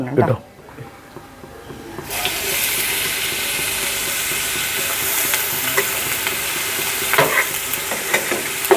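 Ginger, garlic and green chilli hit hot coconut oil in a pan, bursting into a loud, steady sizzle after a quiet start, with occasional stirring clatters and a voice speaking over it.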